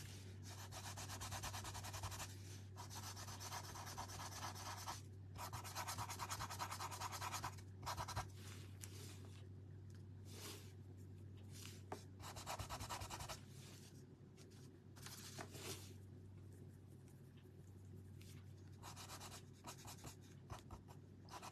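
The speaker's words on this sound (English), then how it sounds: "So I'm just dry brushing." A dry paintbrush scrubbing paint onto a wooden pumpkin door hanger, producing a steady, soft, close scratchy rubbing in continuous strokes with brief pauses, over a faint low hum.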